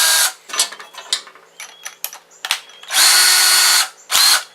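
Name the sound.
power drill drilling a hole in PVC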